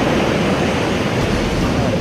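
Sea waves crash and surge on a beach where sea crabs are caught, a steady broadband roar of surf filling the whole stretch loudly and close.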